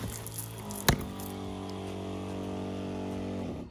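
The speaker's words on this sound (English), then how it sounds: "Well, that's the shower coming on out." An off-grid shower system with its water heater comes on and builds pressure, giving a steady droning hum with a sharp click early on, then running evenly before cutting off abruptly.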